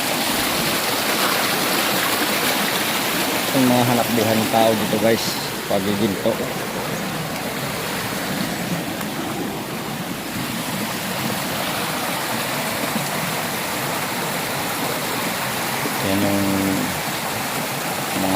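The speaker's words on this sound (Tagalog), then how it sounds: "para lumakas ang agos ng tubig" Water rushes and splashes continuously in a flowing stream at a gold-mining site in the mountains of Agusan del Sur, a steady broadband wash, while someone talks over it at times.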